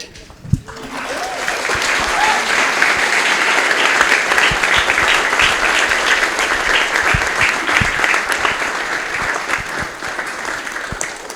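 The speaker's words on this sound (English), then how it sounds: "that was a very sweet round of applause" Wedding guests at an outdoor ceremony break into loud, sustained applause right after the couple's first kiss, the clapping swelling quickly and holding steady for about ten seconds with a few scattered cheers.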